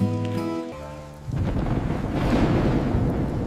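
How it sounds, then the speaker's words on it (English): Thunder rumbles in a rainy animated cartoon scene, a broad loud roll that swells up after a short musical passage and keeps growing as the clip ends. "It's just thunder."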